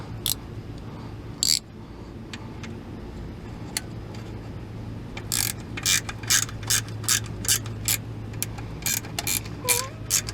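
A ratchet clicks in short repeated bursts while snugging a bolt on a Dodge Caravan AC compressor during installation, the quick pawl ticks coming in clusters over a low steady hum, close and fairly crisp.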